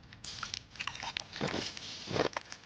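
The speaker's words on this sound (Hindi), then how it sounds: "उसका शरीर बिरजू चबा चबा कर खा रहा था" Wet, crunchy chewing and biting of flesh for an animated horror story, a run of close, soft crunches and squishy bites with no talk.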